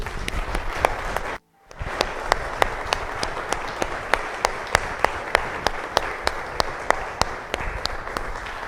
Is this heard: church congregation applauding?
yes